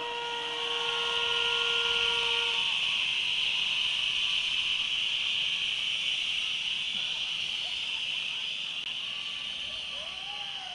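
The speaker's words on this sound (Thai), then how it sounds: "เป่านกหวีดยาวๆให้ยิ่งรักหน่อยพี่น้อง" A crowd of street protesters blowing long, sustained blasts on whistles, a dense, loud shrill chorus holding steady for over ten seconds, with a few separate whistle tones rising and falling on top.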